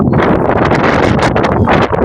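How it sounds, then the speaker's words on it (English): Strong wind buffets the microphone in loud, continuous gusts that roar and rumble with no break. "It's windy as anything."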